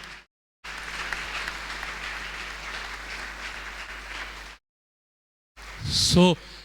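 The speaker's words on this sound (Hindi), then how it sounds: "तालियां बजाकर जीसस को महिमा दें।" A church congregation applauds in praise of Jesus during a Hindi sermon, a steady moderate wash of clapping that cuts off abruptly, followed by silence and then a brief voice.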